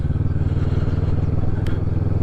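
Kawasaki Vulcan 650S motorcycle engine running at high revs, a loud, steady low rumble that holds throughout with no speech over it.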